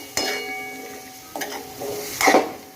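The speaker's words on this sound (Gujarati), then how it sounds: "જે મેં આ બટાકા કાપીને મૂક્યા હતા એ નાખી દીધા અને આને પણ હવે આપણે સરસ મિક્સ કરી લેવાના છે" Potato curry being stirred in a pan after cut potatoes go in, with a sizzle and scraping spoon strokes against the metal. The strokes come in a few distinct bursts, the last one the loudest, with no talking.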